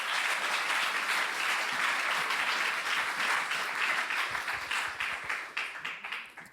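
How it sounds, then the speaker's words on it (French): A church congregation at a Sunday morning service applauds steadily, a dense, even wash of many hands clapping that holds strong before thinning and tapering off toward the end. "on applaudit Jésus comme jamais"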